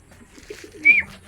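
A pigeon gives a single soft coo, a brief low-pitched call rising to a louder note near the end, heard close and alone against near silence.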